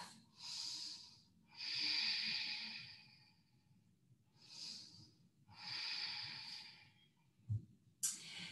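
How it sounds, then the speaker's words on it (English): A person takes full, deep breaths during yoga practice, slow rhythmic inhales and exhales heard close up, each drawn out over a second or more, with a brief sharper sniff near the end. "Take a full big deep breath here."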